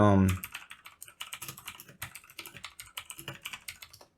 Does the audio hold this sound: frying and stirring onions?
no